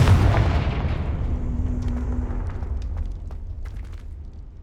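A Confringo blasting spell detonates in the Hogwarts Legacy video game, a heavy, loud explosive boom followed by a long rumbling decay with scattered crackles and debris sounds fading over several seconds.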